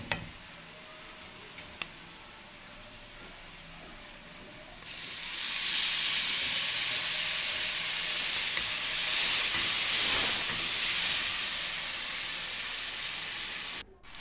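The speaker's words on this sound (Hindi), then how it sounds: "इसको मज़ीद 5 मिनट के लिए मैं मसाले को फ्राई करूँगी" Masala frying in a pan for an arbi and baingan sabzi, a quiet hum that breaks into a loud, steady hiss and sizzle lasting about nine seconds before it abruptly stops.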